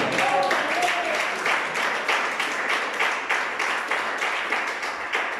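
A church congregation applauds after a Spanish-language sermon, with moderate, steady clapping throughout and regular pulses of emphasis, and a brief voice near the start.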